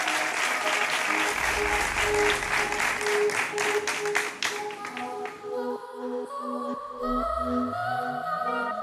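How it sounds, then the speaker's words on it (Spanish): A studio audience on a television show claps loudly for about five seconds, then the applause fades as a pop song with singing comes in. "Así que un fortísimo aplauso para ti"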